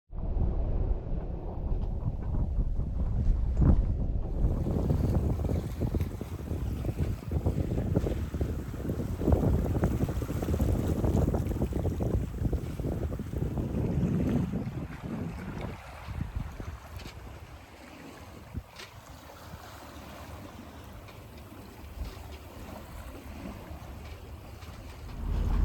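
A sailboat motors under engine power on Chesapeake Bay, a steady low engine drone blended with wind buffeting the microphone and water rushing along the hull, continuous and fairly close throughout.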